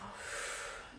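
Sustained breath during a yoga session, a steady, close, soft airy exhale with no talking.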